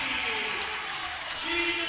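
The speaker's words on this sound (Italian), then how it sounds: "Applausi per il libero di Sassuolo che ha tenuto vivo un pallone molto difficile" Crowd applause in a volleyball arena during a Serie A2 Sassuolo–Pinerolo match, a soft, distant wash of clapping that runs beneath a commentator's voice throughout.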